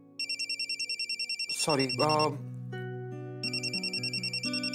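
A phone ringtone plays as a repeating electronic trill, breaks off briefly while a voice speaks a single word and other tones sound, then resumes ringing, close and clear, in a Marathi TV serial scene.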